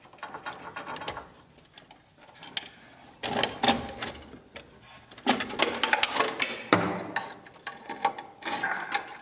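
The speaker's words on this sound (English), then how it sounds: "let's get this brake booster out" Hand tools rattle and clatter against metal as a car's brake booster is removed, producing busy, close mechanical ratcheting and knocking in uneven bursts.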